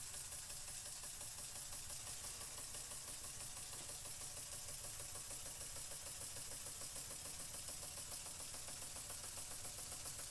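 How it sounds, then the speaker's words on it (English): A small model steam engine, an Empire B-43, chugs steadily with a fast, even rhythmic pulse, running continuously over a hissy mechanical background. "I can get her to just chug and pretty much hold the steam"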